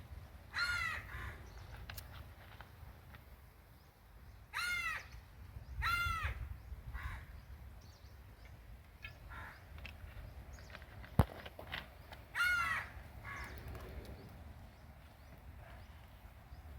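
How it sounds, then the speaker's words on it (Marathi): Crows caw in short repeated bursts near an outdoor wood-fire kitchen where chicken curry is being cooked, with faint footsteps and background noise between the calls. "पक्ष्यांका पण भूक लागली आहे ओरडतात"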